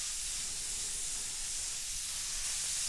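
An airbrush lays down a second coat of Auto Air orange paint, giving a steady, close airy hiss that runs without a break for the whole stretch, with no voices over it.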